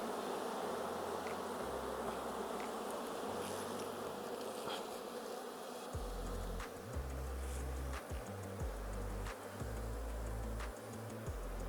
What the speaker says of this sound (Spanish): vamos a aplicar humo en esta parte para retirar un poco de abejas